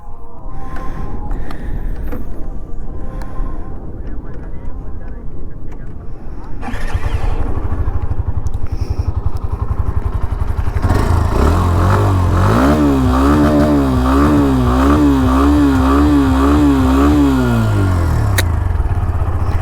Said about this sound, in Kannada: ಆ್ಯಂಡ್ ಎಕ್ಸಾಸ್ಟ್ ನೋಟ್ ಅಂತ ಕೇಳಿಸ್ಕೊಂಬಿಟ್ರಿ ಕರೆಕ್ಟಾಗಿ